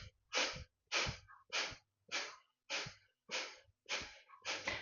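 Forceful yoga breaths are pumped out by sharp contractions of the belly, about eight short, rhythmic exhalations through the nose, close and distinct, each separated by brief silence, with no talking.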